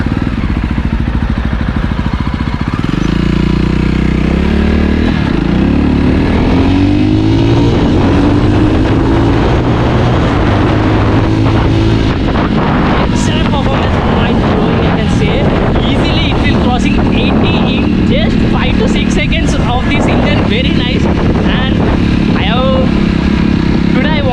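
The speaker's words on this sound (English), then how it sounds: "let's give a throttle and let's launch the bike" A 2020 Jawa Perak BS6 motorcycle revs loudly and pulls away, its engine note climbing through the gears under heavy wind buffeting, with a rider talking over the sustained roar.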